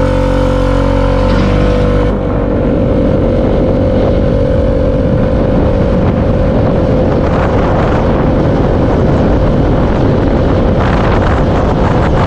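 A Piaggio Vespa VXL150 BS-6 scooter with ABS accelerates with a steady engine drone under heavy wind buffeting on the microphone, loud and continuous throughout the ride.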